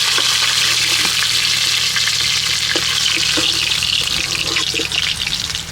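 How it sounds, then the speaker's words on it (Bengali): Onion and green chilli frying in a pan during village-style cooking, giving a steady, loud sizzle with occasional stirring scrapes and clinks throughout, no voices. "পেঁয়াজ আর কাঁচা লঙ্কাটা একটু সময় ভেজে নিলাম"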